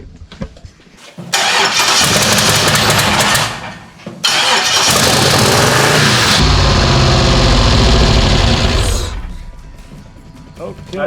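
A kei truck engine cranks and catches, then runs loud and rough with odd whining and rattling noises from a failing steering hydraulic line, surging up and settling back, close to the microphone.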